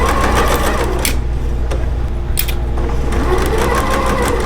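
A sewing machine runs steadily at close range, chain piecing diagonal quilt pieces, its rapid needle hum continuous throughout with a few brief higher rattles as fabric feeds through.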